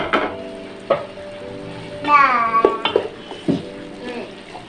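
Boiled beef stirred and fried in spices on raised heat for Bannu beef pulao: scraping stirs and soft sizzling with clatter from the pot, under a person talking.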